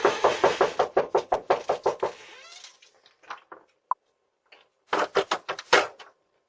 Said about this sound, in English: Some kids knocking on the door trying to sell like candy.